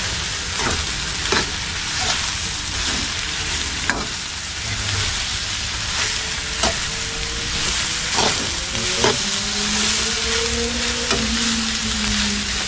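A seasoned home-cooked dish frying in a pan while it is stirred, giving a loud continuous sizzle and hiss with repeated scraping strokes of a spoon against the pan, close and uninterrupted by talk.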